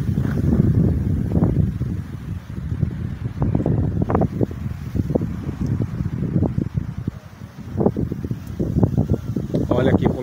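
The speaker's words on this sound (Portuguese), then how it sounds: "E é muito vento, né?" Strong summer storm wind near Bandeirantes and Piracicaba, Brazil, roaring and buffeting steadily against the microphone, with someone speaking Portuguese over the gusts throughout.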